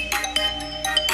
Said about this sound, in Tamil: என்ன ஏதோ போன் அடிக்குது?